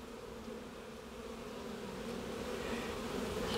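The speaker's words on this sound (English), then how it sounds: "Some healthy looking bees." Healthy honeybees buzzing on a hive frame holding nectar and pollen, a steady close hum rising slightly in loudness, no voices.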